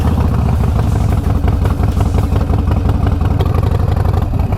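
A Harley-Davidson motorcycle engine runs steadily and close by, a loud low rumbling idle with a clattering pulse and slight revving, heard alone with no talking, at a campground on Hatteras Island in the Outer Banks.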